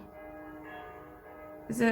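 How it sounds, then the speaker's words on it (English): Church bells ringing on a Saturday evening, faint and distant with a sustained ringing tone, under a louder indoor voice that comes in at the end. "I'm sorry for the background bell ringing of whichever church it is at the moment"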